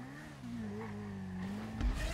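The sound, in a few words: motorbike engine during a jump in a video game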